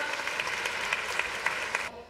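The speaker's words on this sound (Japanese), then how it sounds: "皆さん今一度大きな拍手どうぞお送りください" An audience applauds first-year junior high students of a school taiko club in Omihachiman, Shiga, with brisk, dense clapping carrying a few sharper claps before it cuts off abruptly near the end.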